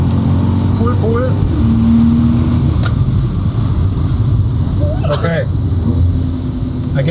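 Mercedes-AMG car accelerating at full throttle on a Michelin proving ground test track, heard from inside as a steady engine roar and tyre drone, with people talking over it.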